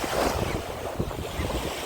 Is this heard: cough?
no